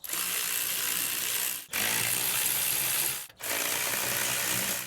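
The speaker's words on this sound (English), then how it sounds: "I'm just gonna take my ratchet and tighten this as tight as I can with the ratchet first." A hand ratchet clicks steadily while tightening wheel bearing bolts on a 2015-2020 GMC Yukon front hub, close and fairly loud, in three continuous bursts separated by two brief pauses.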